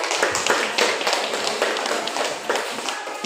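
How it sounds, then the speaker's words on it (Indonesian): Scattered hand claps and taps from a group, uneven and moderately loud, with faint voices in the background. "tepuk tangan"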